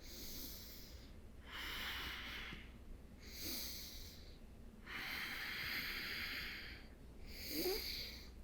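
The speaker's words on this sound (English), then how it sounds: "Take 3 breaths here." Slow, deep breaths during a morning yoga session, each long airy inhale or exhale separated by quiet pauses, close and soft with no talking.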